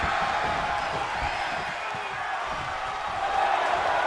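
Arena crowd in the WWE 2K23 wrestling game, a continuous cheering roar with some thuds and impacts underneath, commentary voices audible over the noise.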